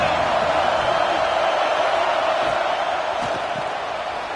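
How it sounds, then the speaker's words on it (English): A stadium crowd at a Clemson vs Duke college football game roars in a loud, sustained wash of cheering and shouting that holds steady for over four seconds, with scattered whoops rising from the mass of voices. "This crowd ready to make its presence known."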